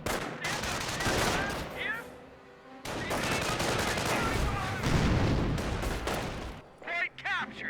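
Rifle squad engaging Grenadiers in the video game Company of Heroes, with sustained dense bursts of rifle and machine-gun fire and distant blasts, pausing briefly, under a commentator talking.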